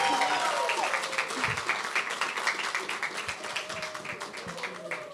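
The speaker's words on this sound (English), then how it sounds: "Everybody give him a round of applause." Audience clapping at a talents and hobbies showcase event, a sustained round of crowd applause, loud at first and slowly tapering off.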